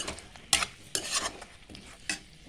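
Cut potatoes frying in oil in a pan, stirred with a utensil: several sharp scraping strokes and clinks over a low, steady sizzle.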